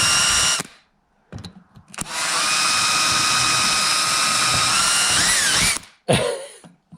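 A power drill whirs in short bursts, then runs at a steady high whine for several seconds before stopping and briefly restarting, close by, drilling into a mini digger's bucket pin.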